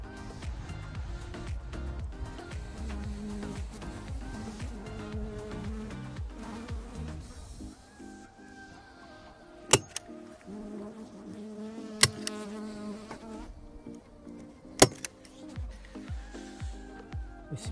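Honeybees buzzing around apiary hives on a November visit, a steady insect drone filling the air with a few sharp knocks or clicks breaking through, no talking.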